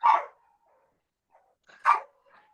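A dog barks in the background of an online meeting about identifying winter birds in El Paso: two sharp, fairly loud barks about two seconds apart, with faint yips between, and no talk.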